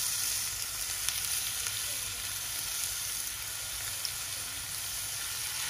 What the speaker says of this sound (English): And now it's time to add in our shrimp.